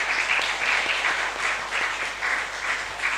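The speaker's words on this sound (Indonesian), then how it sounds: "Mari kita tepuk tangan menyebut mereka" A church congregation claps together in a full, steady round of applause with a slight pulsing swell, continuing without letup.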